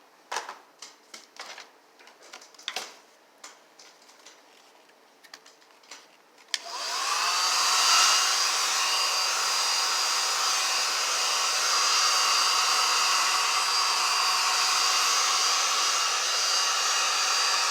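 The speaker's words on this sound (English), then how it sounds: "So I'm going to use the blow dryer for a little bit." A few light clicks and taps, then an old hair dryer switches on abruptly and runs with a loud, steady whooshing roar until the end, drying paint.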